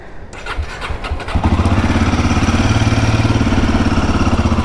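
A motorcycle engine cold-starts after a brief starter crank, then settles into a loud, close, steady idle with a rhythmic thumping pulse.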